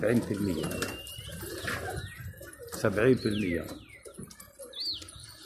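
Pigeons coo in low, repeated throaty calls close by, with higher chirps and whistles mixed in, while people talk over them throughout.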